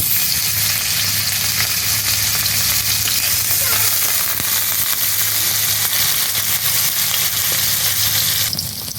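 Goat fat drops into hot oil over a wood fire and fries with a loud, dense, continuous crackling sizzle, close up and steady throughout, with no speech.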